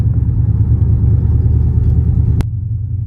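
A 2019 Dodge Charger Scat Pack's engine rumbling loud and close inside a tunnel, a steady deep drone with a sharp click near the end.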